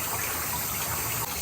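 A shower-mounted water pick sprays a steady, close hissing stream of water while a chicken is bathed, continuous and loud with no voices.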